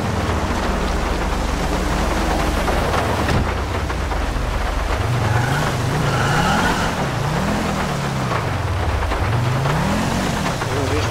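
A police car engine in GTA with the LSPDFR mod revs up and down in rising and falling sweeps under a steady wash of heavy rain noise.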